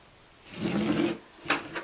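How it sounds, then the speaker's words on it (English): A marker drawn across burlap fabric produces a rough, scratchy rasp lasting about half a second, followed by two shorter scrapes, close and fairly loud with no speech. "run a line with a marker here"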